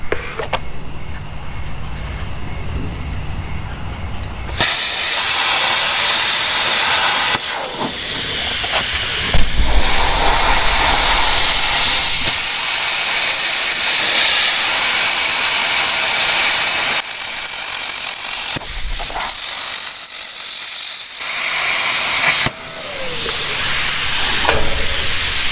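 Plasma cutter on 220 volts slicing thick metal, an old trailer light bracket, a loud steady hiss and roar that runs in long bursts with short pauses between cuts.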